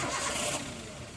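A Daihatsu Terios Rush engine with a new ignition coil and a rough-running fault cranks and catches, then settles into a steady idle close up.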